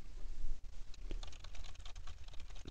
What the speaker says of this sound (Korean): 먼저 키보드를 눌러 보겠습니다.